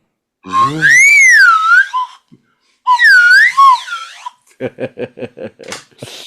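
A toy slide whistle plays two long swooping, wavering glides up and down in pitch, then a run of short staccato toots and chirps, close and loud with no talking.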